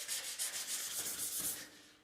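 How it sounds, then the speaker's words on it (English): Old paint is wet-sanded with soapy water, the paper hissing and rubbing in quick back-and-forth strokes, close and steady for a couple of seconds. "And you can't even do this without wet sanding."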